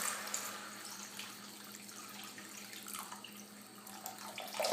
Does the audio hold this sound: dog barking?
no